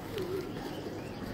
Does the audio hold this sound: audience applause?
no